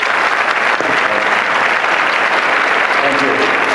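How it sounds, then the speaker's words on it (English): A university engineering-week lecture audience breaks into a loud round of applause for the speaker: dense, continuous clapping from a large crowd, steady and close, filling the whole span. "So let's give him a round of applause and thanks for coming out."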